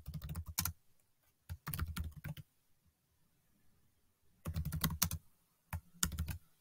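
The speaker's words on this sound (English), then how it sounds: "I'll type it in again" Typing on a computer keyboard, up close and fairly quiet, in short bursts of rapid key clicks with pauses of near silence between them.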